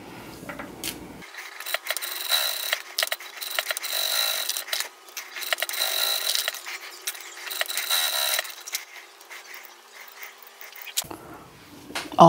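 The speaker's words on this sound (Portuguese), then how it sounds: "eu vou passar uma costura de um lado e do outro pra fazer acabamento" A sewing machine runs a finishing seam along both sides of the fabric for a round children's fanny pack. It makes a steady mechanical whirring and rattling in bursts with short pauses, close by and moderately loud.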